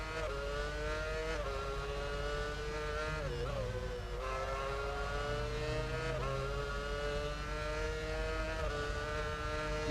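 F1 car from F1 Championship Edition lapping China's circuit at race pace, its high engine note whining steadily and loud, pitch dipping briefly on downshifts for corners before climbing again, with a faint lower engine beneath.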